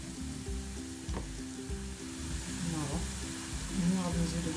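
Vegetables including carrots and courgettes sizzle and fry steadily in a pan while being stirred, with occasional scraping clinks over the continuous crackle; no talking.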